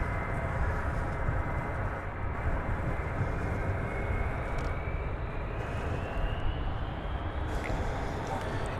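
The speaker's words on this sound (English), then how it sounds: "Flight 392 from Portland. That's a 737-900 with no winglets." Boeing 737-900 without winglets arriving at DFW Airport, a continuous loud jet roar with a slowly rising whine, heard from nearby alongside faint speech.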